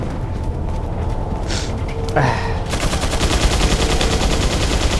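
Gunfire in the video game Resident Evil 4 Separate Ways: dense, rapid bursts of shots build up and become a steady loud rattle over the second half, with no talking.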